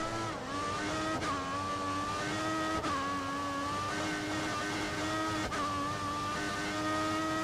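Steady high-pitched Formula 1 car engine drone from the video game F1 2014, with sustained harmonic whine, pitch dipping briefly at each gear shift, continuous and loud with no talking.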